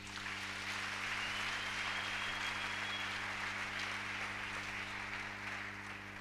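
A church congregation claps in steady, even applause to acclaim the Lord, a sustained wash at moderate distance over a low electrical hum.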